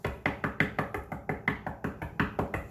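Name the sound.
knocking on a door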